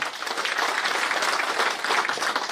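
A business meeting audience applauds in a steady wash of many clapping hands that holds at an even level throughout, with no one speaking over it.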